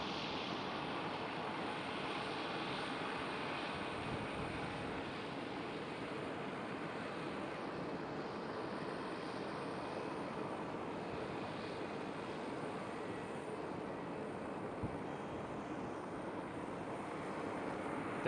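A Boeing 737 roars at Schiphol airport, a steady broad engine rumble held at even loudness throughout, with a faint high whine on top.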